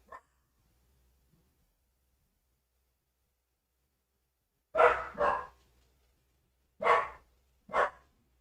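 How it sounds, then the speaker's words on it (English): A dog barks in a home setting, four loud close barks in two pairs after a long quiet stretch. "There's Max barking."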